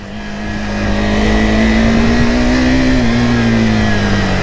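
Adventure motorcycle climbing a ghat road, its engine holding a steady, loud drone with a sustained tone that rises slightly as the rider pulls upward, heard up close with wind noise around it and no talk.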